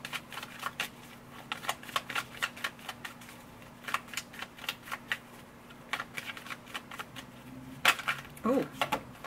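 Tarot cards riffled and slapped down in quick papery bursts, a steady run of soft flicks and snaps with a low hum underneath and a brief clatter near the end.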